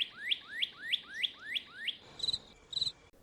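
Scarlet cardinals singing: a series of six clear, evenly spaced downward-slurred whistles, then two brief buzzy chips, moderately distant over a faint insect hum.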